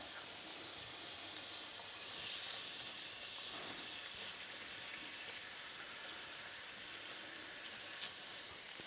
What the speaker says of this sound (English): now we can go in with our onions, garlic and chili